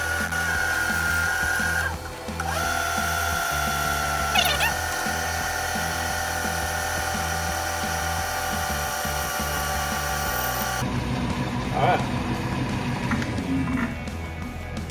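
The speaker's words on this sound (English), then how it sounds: "Now I'm gonna put a chamfer on the back, so I'll have something to, a nice surface to weld in." A power tool grinds a chamfer into a Chevy 454 intake manifold to prepare it for welding, a steady loud whine holding for about eleven seconds before a short pause and a rougher, shifting tool sound.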